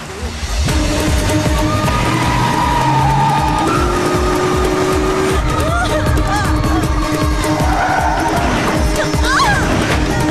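A vehicle on a road skids with long squealing tyres amid loud engine roar, followed by clattering impact noises and scattered voices in the background.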